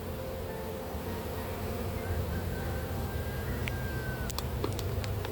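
Honeybees buzzing steadily around an opened hive while frames are handled during a hive split, a dense continuous drone close by, with a few brief sharp clicks near the end.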